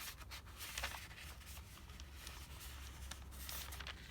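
Faint, soft rustling and crinkling as full, written-on notebook pages turn one after another, close up over a low steady hum.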